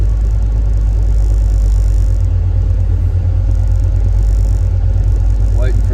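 A Studebaker car cruising down the road on newly installed cruise control, heard from inside as a steady, heavy low rumble of engine and road noise, constant and loud throughout.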